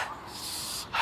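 A puppy whimpers and yips in a short, high-pitched cry that rises at the end, close to the microphone, with no talking.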